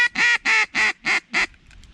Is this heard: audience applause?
no